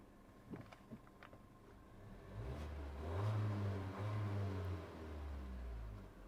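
A Geely Coolray engine fires up after a push-button start, settling into a low, steady idle rumble heard close and alone, preceded by a few faint clicks.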